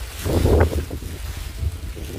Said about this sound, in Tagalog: Sobrang dami ng hangin.